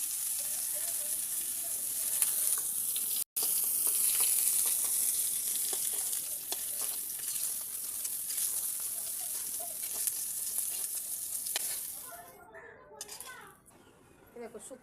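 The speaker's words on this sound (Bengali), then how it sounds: "দেখো কপি ভাজাটা হয়ে গেছে।" Cauliflower pieces sizzling and frying in hot oil in a pan, a steady close hiss under occasional clinks that quiets near the end.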